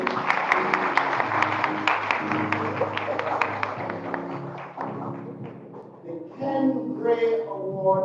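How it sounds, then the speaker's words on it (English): Audience at an awards ceremony gives a sustained burst of clapping that gradually thins out, with a voice talking over the tail end. "You can keep your applause going."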